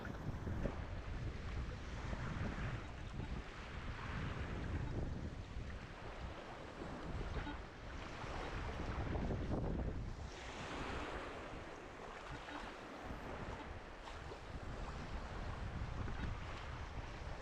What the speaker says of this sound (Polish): Ciężko się chodzi, bo dość duże fale.